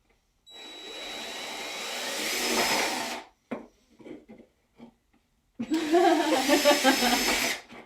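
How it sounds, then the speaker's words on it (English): A power drill drills holes in the bottom of a container in two bursts, the first rising in pitch for a few seconds, then a pause with small clicks and knocks before a second drilling burst. "I'm still drilling in the bottom."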